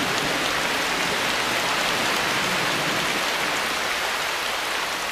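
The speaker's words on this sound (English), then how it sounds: "Regular downpours are essential for life in the forest." Heavy tropical rainforest downpour in Asia, a dense continuous hiss of rain striking foliage and surfaces, loud and unbroken throughout with no voices.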